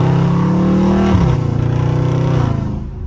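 A loud, deep Dodge Charger Scat Pack engine rumbles steadily, its pitch dipping briefly mid-way as if shifting, then holding a throaty growl close by.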